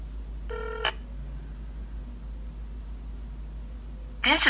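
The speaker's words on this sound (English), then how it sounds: "I'm about to make the famous 611 phone call." An LG G6 phone dials 611, giving a short run of stacked keypad tones near the start, then a burst of brighter tones at the end, over steady low hum and faint background noise.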